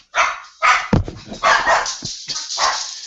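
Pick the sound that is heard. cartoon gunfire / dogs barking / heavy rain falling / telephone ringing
dogs barking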